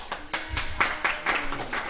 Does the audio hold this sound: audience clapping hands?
yes